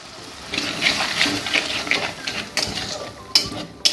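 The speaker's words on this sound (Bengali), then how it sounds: "একটু জল দিয়ে দিচ্ছি কষানোর জন্যে" Water is poured into a brass kadai (wok-style pan) holding a sautéing green chilli curry, making a close, bubbling, splashing trickle with light clinks that fades and then returns in short bursts.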